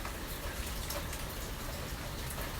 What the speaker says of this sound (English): it's really beginning to rain.